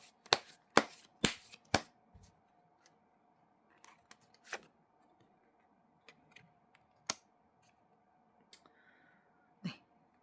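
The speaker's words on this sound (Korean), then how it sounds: "자, 그러면 마지막으로 조언 카드 한번 뽑아 보도록 하겠습니다." Tarot cards are shuffled and handled, with quiet, scattered snaps, flicks and soft riffles at irregular intervals against a near-silent background.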